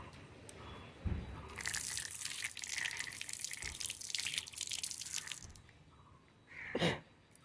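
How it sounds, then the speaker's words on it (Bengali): Water runs from a tap for several seconds as hands are washed, a close, hissing splash that swells then stops, followed by a short second gush. "তো হাতটা একটু ধুয়ে নিই।"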